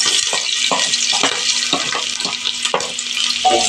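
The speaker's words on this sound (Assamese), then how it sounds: "এয়া মোৰ তেলটো গৰম হৈ গ'ল। মই তাত পিঁয়াজটো দি দিছোঁ।" Onion dropped into hot oil in a pressure cooker fries with a loud, continuous sizzling hiss, broken by small regular spatters and crackles.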